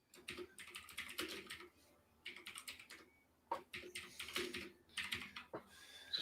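Mechanical computer keyboard typed in quick bursts of bright clacking keystrokes, separated by short pauses, close and fairly quiet, with no voices.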